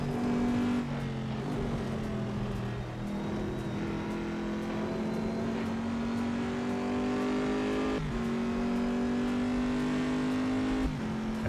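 A race car engine in a racing video game revs high and steady, climbing through gears with sharp shift drops, loud and continuous from start to finish.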